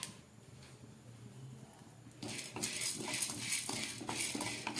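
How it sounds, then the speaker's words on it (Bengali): Chana dal being fried in a kadai: after a quiet stretch of low background noise, a steady crackling sizzle starts at about two seconds and keeps going at moderate loudness, with light scraping and clinking from stirring on top. "কড়াইটার মধ্যে আমি কিছুটা ছোলার ডাল দিয়ে দিলাম"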